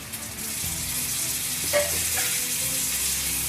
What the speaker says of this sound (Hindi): इसको हमें जब तक फ्राई करना है, जब तक हमारे टमाटर जो है बिल्कुल सॉफ्ट नहीं हो जाते